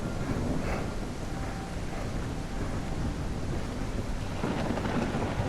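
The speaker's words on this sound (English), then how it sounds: "Look at the lightning storm then." Deep thunder rolls through a nighttime lightning storm over choppy water in the kayaking game Kayak VR: Mirage, a loud continuous rumble blended with steady rain hiss and no talking.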